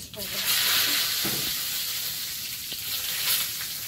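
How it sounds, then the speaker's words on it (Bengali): Whole spices and a bay leaf sizzle in hot oil in a wok: a loud, continuous bright hiss throughout, with a couple of faint knocks and brief background noises underneath. "এদিকে কড়াই তেল দিয়েছি"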